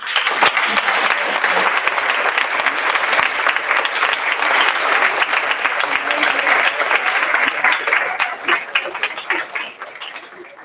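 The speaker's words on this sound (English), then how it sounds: "if we can give them one last big round of applause" A school board meeting audience gives a big, sustained round of applause, dense clapping that holds steady and then tapers off toward the end.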